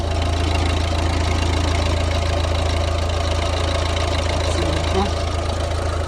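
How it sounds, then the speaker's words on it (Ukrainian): A Volvo V50 or VW Passat B7 engine idles steadily and evenly, a close, continuous low hum with a faint regular ticking layered through it, running alone without pause. "Мотор працює рівненько, сухий, нічого не тече."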